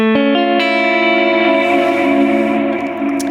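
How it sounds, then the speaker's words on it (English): A clean electric guitar chord rings out with lush reverb and echoing delay, sustaining and shimmering, a few picked notes repeating, no voices. "I'm using really clean guitar tone, and it's having like a lot of reverb and delay"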